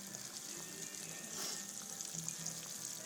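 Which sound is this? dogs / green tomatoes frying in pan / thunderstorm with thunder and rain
green tomatoes frying in pan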